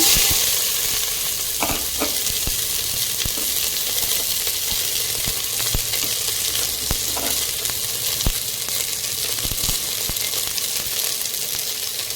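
Sliced onions fry in a pan with cinnamon, cashews and popped mustard seeds, giving a constant loud sizzle with occasional spoon taps and stirring scrapes, no voices.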